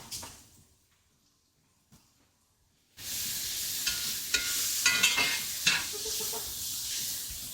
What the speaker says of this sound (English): We're caramelizing onions too, buddy.